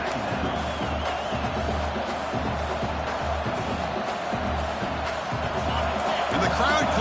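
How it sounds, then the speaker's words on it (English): A stadium crowd roars steadily throughout a college football video game with LSU playing, a dense sustained cheer rising slightly toward the end, with a commentator talking over it. "And the crowd coming to life here, trying to help this defense down in the red zone"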